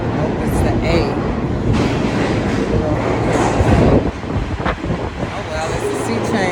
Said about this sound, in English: Oh well, it's the C train.